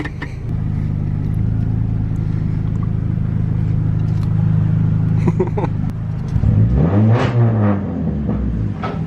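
A car engine runs at a steady, loud drone, then revs up sharply near the end with a rising, throaty roar.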